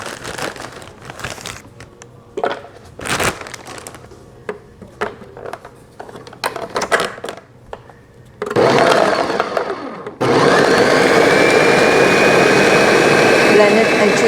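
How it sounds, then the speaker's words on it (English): Blender whirring through Parmesan cheese and walnuts in a kitchen, a loud steady grinding roar that starts partway through and runs continuously to the end after some clattering and handling noises. "Blend it into smooth"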